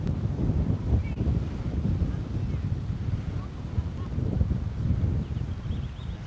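Strong wind buffets the microphone with a constant low roaring rumble, steady and loud throughout with no clear talk.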